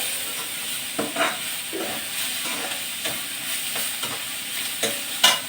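Onions sautéing in a pan in a village kitchen, with a steady close sizzle and hiss broken by several sharp scrapes and clacks of a stirring spoon, no talk.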